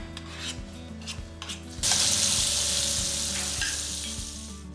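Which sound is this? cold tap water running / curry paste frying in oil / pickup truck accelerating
curry paste frying in oil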